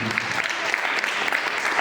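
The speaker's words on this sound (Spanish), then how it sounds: "Dale un aplauso a Dios" A church congregation breaks into applause, a short burst of steady, moderately loud clapping from many hands with no voices above it.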